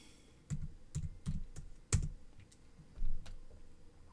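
Keys on a computer keyboard are tapped to type a folder name, giving a short run of close, distinct clacks in an uneven rhythm with brief pauses between strokes.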